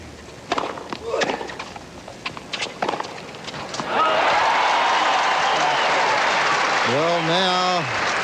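Crowd of 11,000 at a tennis match between Ivan Lendl and Jimmy Connors at Stratton Mountain in 1985 breaking into loud sustained applause and cheering after scattered claps, with whistles near the end and commentary talking over it.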